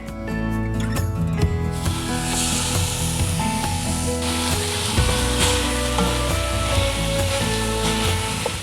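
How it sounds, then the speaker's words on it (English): Ground beef sizzles and fries steadily in a large Dutch oven over medium-high heat, a loud continuous crackle with occasional stirring scrapes and faint rattles. "I've got my large Dutch oven heated to medium-high heat. I'm gonna add 1 pound of ground beef."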